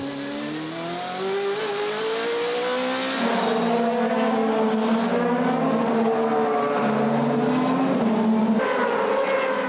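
Race cars, including Häkkinen's and Tomczyk's, brake and accelerate out of corners, engines rising and falling in pitch over each other as they pass at close range, loud and continuous with no talk.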